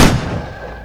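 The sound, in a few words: gunshot sound effect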